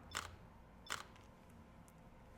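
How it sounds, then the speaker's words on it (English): Crisp mechanical shutter clicks from a Lumix S1RII camera, three separate snaps spaced about a second apart, close and clean against near silence, with the last one the loudest. "it has a very pleasing shutter sound"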